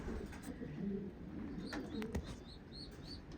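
Racing pigeons in a loft with young birds, low soft cooing running steadily beneath a few light chirps and brief wing flutters, close by and continuous.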